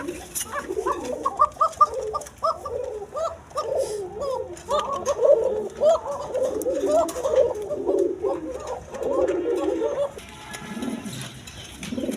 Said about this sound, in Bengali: এক পেয়ার লাহোরি কবুতর আছে